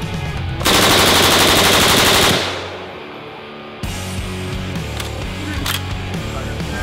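HK91 rifle in 7.62 NATO fired as one long, loud, sustained burst of rapid shots, followed by a brief echo and quieter movement noises, with no talking.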